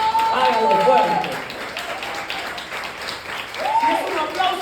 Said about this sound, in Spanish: si usted aplaude al Señor, por favor, hágalo fuerte.